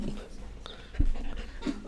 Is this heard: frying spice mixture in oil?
no